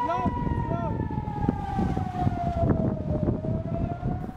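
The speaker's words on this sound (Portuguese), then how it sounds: "Os banhistas de Ashkelon tiveram a paz interrompida pelas sirenes de alerta de foguetes." A loud rocket alert siren wails steadily in the beach city of Ashkelon, Israel, its tone slowly falling, with crowd noise and voices beneath it.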